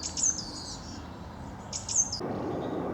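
A songbird sings two short high phrases a moment apart, fairly faint over a low outdoor hum.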